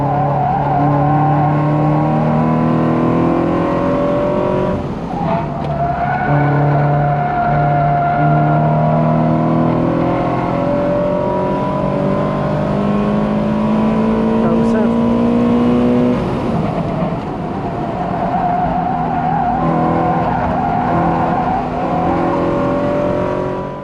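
Race car lapping a track and sliding on a corner exit, loud engine revving up and down through the gears with brief dips between pulls, a driver talking over the roar throughout.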